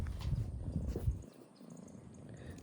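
Cat purring up close: a soft, low, rhythmic rumble for about a second, then a quieter stretch with faint rustling.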